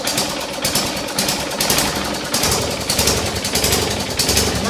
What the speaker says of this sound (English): That's just idling there because that's where I have the throttle set.